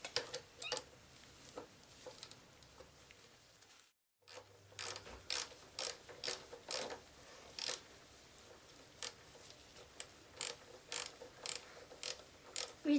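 Rapid clicking of a ratchet undoing the brake caliper slider bolts on a Yamaha XJ6 motorcycle, close and fairly quiet, in steady bursts of ticks with a brief pause partway through.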